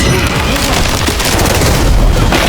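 Dense, loud gunfire from a violent scene in the film Rambo: Last Blood, with booming shots and crackling impacts packed together throughout, mixed into a busy soundtrack.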